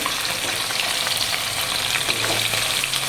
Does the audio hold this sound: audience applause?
no